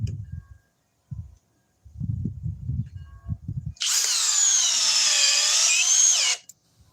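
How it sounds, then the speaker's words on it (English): A GSB 18B65 hammer drill drives a big fastener in one loud, steady whirring burst of about two and a half seconds, after a few low, muffled knocks and handling sounds. "18B65 hammer drill."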